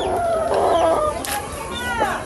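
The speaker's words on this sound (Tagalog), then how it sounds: "Meron po ditong mga manok." Chickens cluck and call close by in a backyard where chili plants grow, with short overlapping bursts of clucking over a low background hum.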